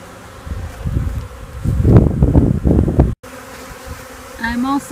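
Honey bees buzz around a hive during installation of a bee package, a dense, steady hum close to the microphone that swells and wavers, with a brief dropout near the end.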